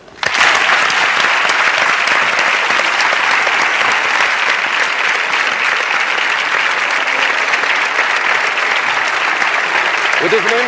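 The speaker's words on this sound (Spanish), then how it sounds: "Yo pido que ustedes reciban, como siempre, con ese calor y con un fuerte aplauso a Atme Duane." A television studio audience bursts into strong, sustained applause, a dense, steady roar of clapping that starts abruptly and holds close and loud for about ten seconds before a voice begins at the very end.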